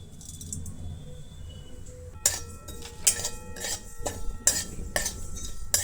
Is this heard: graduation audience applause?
no